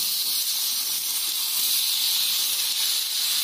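Chopped tomatoes hit a hot pan for onion chutney and sizzle loudly and steadily, a continuous close hiss with no voices.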